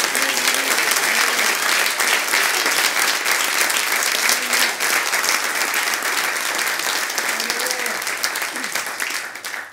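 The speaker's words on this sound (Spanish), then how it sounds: "Un aplauso al Señor, hermano" A church congregation at a Sunday service claps in a long, dense burst of applause, loud at first and tapering slightly toward the end, with no speech over it.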